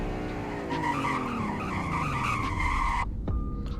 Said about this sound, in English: Here's the braking test.